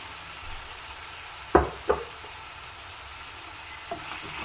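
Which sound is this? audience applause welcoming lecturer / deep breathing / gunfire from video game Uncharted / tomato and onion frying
tomato and onion frying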